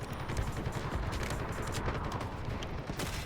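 Dense, continuous gunfire from the video game Delta Force, rapid overlapping shots and bursts filling the whole stretch at a steady, moderately loud level with no pauses.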